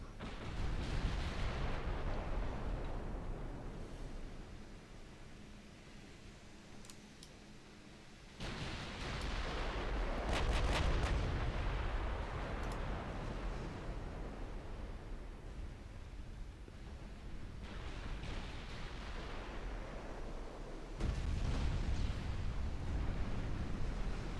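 Heavy naval gunfire from warships in a strategy game battle, a continuous roar of booming blasts and rumbling bursts that swells loud in several waves, with no talk over it.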